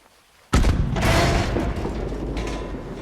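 A single dynamite explosion in Red Dead Redemption II bursts suddenly and loudly after a moment of quiet, then rolls into a long rumbling, crackling tail of debris.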